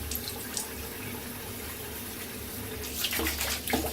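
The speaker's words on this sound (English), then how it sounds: "I'm going to put some water on." Water runs steadily from a tap for a hair wash, a continuous close hiss that swells louder and splashier near the end as the flow changes.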